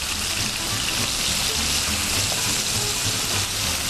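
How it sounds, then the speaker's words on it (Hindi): Squeezed onion water pours into kebab mince in a pan, giving a steady, loud, unbroken rushing hiss of liquid throughout, with no voices. "इसी तरह से प्याज का पानी डालूँगी"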